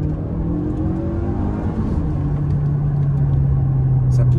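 DS7 E-Tense 4x4 360 hybrid SUV accelerating hard, heard from inside the cabin as a loud, steady low engine rumble with a rising tonal whine, continuous and close.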